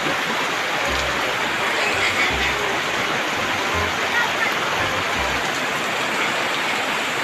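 Steady broadband rain pours outdoors in a wet season downpour while people bathe in it, a continuous hiss with low thumps underneath and no clear talk.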